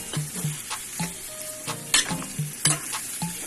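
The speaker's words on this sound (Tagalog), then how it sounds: "gigisa-gisa ko lang to" Chicken sautéing in a pan for chicken gisado, rhythmic spatula scrapes and clinks over a quiet sizzle, close and without speech.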